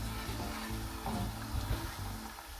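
Onion and garlic cook in a pan with a soft, steady sizzle and occasional light stirring scrapes, fairly quiet and close, with no talking.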